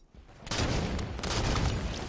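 Sustained rapid gunfire in a video game, an Halo Big Team Battle match, erupting after a quiet half-second and continuing loud and dense as a near, unbroken fusillade of overlapping shots.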